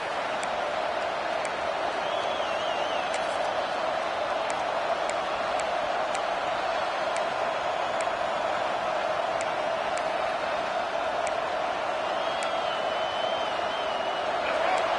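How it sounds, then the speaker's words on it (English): A packed college football stadium crowd roaring to rattle the offense during a game, a dense, sustained wall of noise with faint whistles and clicks, steady and loud throughout without clear talk. "Listen to this crowd just shaking the girders of this place, trying to help their defense."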